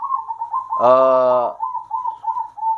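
A single drawn-out, rich harmonic coo from a zebra dove (perkutut), close and clear, rising out of a steady background hum.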